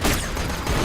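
Turret gunfire in Borderlands 2, a short loud burst of rapid shots, close and harsh with no talk.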